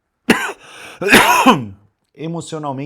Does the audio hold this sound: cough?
yes